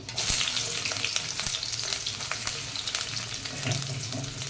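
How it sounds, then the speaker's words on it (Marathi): Onion sautéing in hot oil with whole spices for a sprouted moong curry, a steady close sizzle and crackle with scraping stirs and clicks of a spoon against the pan, and no voices. "कांदा आपण छान परतून घेणार आहोत"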